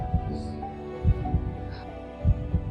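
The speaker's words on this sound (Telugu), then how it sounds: "60 సెకండ్లలో 72 సార్లు కొట్టుకునే తన గుండె చప్పుడు" A steady film heartbeat effect thumps in a slow lub-dub rhythm, about three beats spaced evenly, low and close over a quiet hum with no talking.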